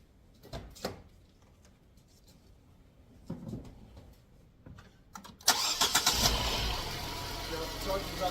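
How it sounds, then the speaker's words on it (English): A car engine cranks and catches after being jump-started with a UIBI portable jump starter with air compressor, a few quiet clicks and handling sounds first, then a loud, steady idle under soft talk. "So we're going to start the car."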